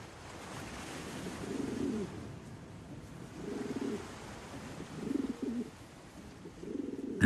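Rock pigeons on the Sardinian coast give soft, low repeated coos in four short bursts, heard against a steady wash of surf and wind.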